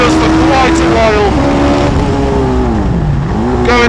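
A Hayabusa-powered Westfield sports car drives hard on a race track at a Forge action day, its engine loud and droning, pitch sliding as it shifts and slows under braking.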